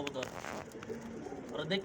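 Soft cooing from a large female pigeon in low, throaty pulses, with faint voices and handling noise nearby.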